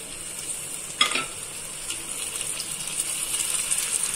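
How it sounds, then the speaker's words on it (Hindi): Onion sautéing in a pan for palak paneer, a continuous close sizzle with one sharp metallic clink near the start and soft stirring scrapes after, with no voices. "1 से 2 मिनट प्याज को अच्छी तरह से भून लेना है।"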